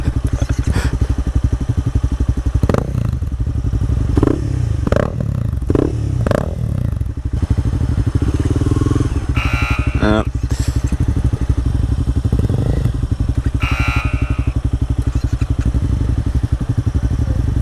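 A motorcycle ridden by a new rider rumbles and idles nearby with clattering and brief revs, while people talk over the engine noise.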